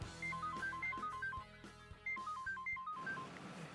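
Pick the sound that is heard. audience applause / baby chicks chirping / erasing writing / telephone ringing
telephone ringing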